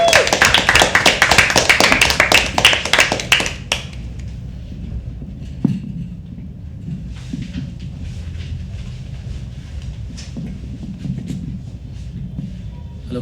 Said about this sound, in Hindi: कृष्णा कृष्णा तालियां तालियां जोर से एक बार।